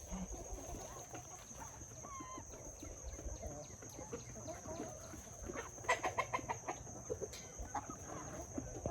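Chickens cluck and fuss steadily at close range on a Sunday morning, with repeated short clucks that grow busier toward the end over a constant high insect-like whine.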